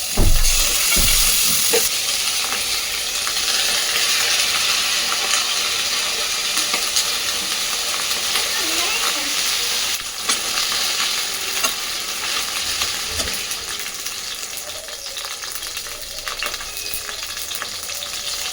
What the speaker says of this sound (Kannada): ನಾವೊಂದು ಒಗ್ಗರಣೆ ಹಾಕಿ ನುಗ್ಗೆ ಸೊಪ್ಪನ್ನ ಬೇಯಿಸ್ಲಿಕ್ಕಿಡೋಣ